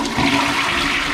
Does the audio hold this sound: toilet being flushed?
yes